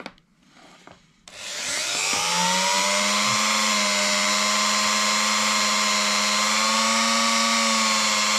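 A rotary power tool spins up and grinds with a sanding stone on a fly-tying workpiece, a loud, steady high-pitched whine that holds close and alone after a short quiet start.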